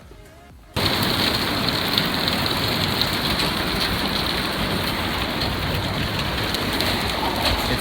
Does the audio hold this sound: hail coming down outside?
yes